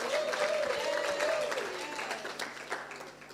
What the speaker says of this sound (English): in giving Professor Getachew Metaferia another round of applause